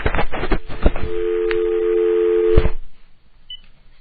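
Telephone keypad tones beep in quick succession, then a steady dial tone hums for a couple of seconds before cutting off, loud and close, as a voicemail call is placed.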